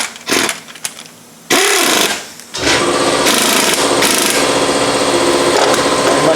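Pneumatic air gun removing a bolt from the rear shock of a 2010 Nissan Altima, a couple of short bursts followed by a loud, sustained whirring buzz, close up.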